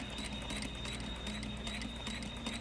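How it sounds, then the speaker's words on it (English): A sewing machine runs steadily while stitching a seam line on a curved piece, a continuous close mechanical whir with a rapid needle rhythm and a faint high whine, with no voices. "I am going to sew a line"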